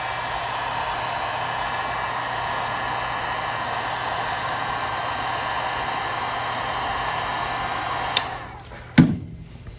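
A dryer blowing on a TLC plate gives a steady, loud whooshing hiss that cuts off abruptly near the end, followed by a couple of handling clicks.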